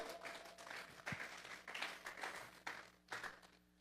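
A church congregation claps in praise during a worship service, scattered hand claps swelling and fading in uneven bursts at moderate distance, with a faint voice in the background.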